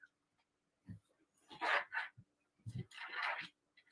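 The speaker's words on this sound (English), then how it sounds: "The trading dog is looking for something." A dog makes short breathy whimpering and snuffling sounds in two bursts, close by, with brief soft noises between them and no talking.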